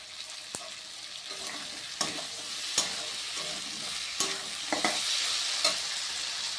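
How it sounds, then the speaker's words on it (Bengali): Tomato, green chilli, onion and garlic sautéing in mustard oil, giving a steady close sizzle broken by regular scraping knocks of a spatula against the pan, with no voices. "টমেটো, কাঁচা লঙ্কা, পেঁয়াজ, রসুন, কাঁচা তেল সব দিয়ে একটুখানি কষিয়ে নিচ্ছি।"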